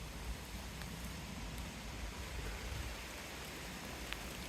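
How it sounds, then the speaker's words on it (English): Heavy rain falls outside a church, making a steady, even hiss that stays fairly faint throughout, with no voices. "Oh my goodness, this rain's coming down."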